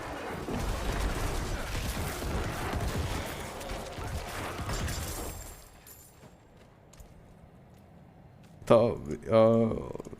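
Corpse explosions in the Diablo IV video game hit in a dense burst of crackling, booming blasts during the first half. They fade to quieter game noise, with brief louder effects near the end and some speech.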